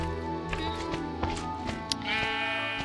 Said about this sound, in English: Hello, sheepy. Can I please borrow some of your wool?